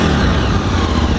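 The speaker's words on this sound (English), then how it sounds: "Thing revs really quick." Ducati 848 EVO motorcycle engine revving, a loud, dense, continuous roar filling the short moment close to the bike with no talking.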